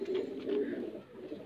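A high flyer pigeon coos in a loft, two soft low throaty calls close by, with no voices over them.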